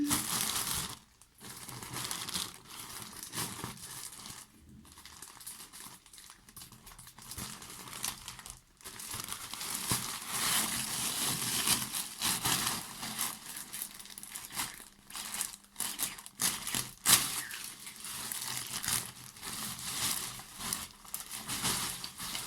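Cargo packaging with books inside is torn and opened by hand, producing continuous close crinkling and crumpling plastic rustles with occasional tearing, with no talking.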